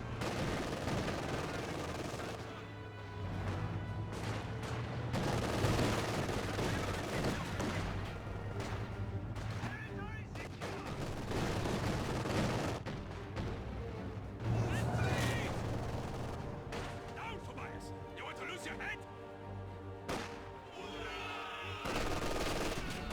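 Rapid gunfire and bursts from shock troops trading shots in a Company of Heroes 2 battle, dense and continuous with explosions mixed in over a low rumbling game soundtrack, heard alongside spoken commentary.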